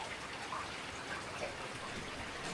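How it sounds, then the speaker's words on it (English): Rain falling on a balcony of a Black Forest lodging above a valley, a soft, steady hiss of drops with no talking. "Just when I arrived here, it starts raining."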